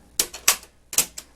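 Keys pressed on a 1921 Monroe Model K mechanical calculator make sharp, close mechanical clacks: two quick strikes, a short pause, then two more, with no voices.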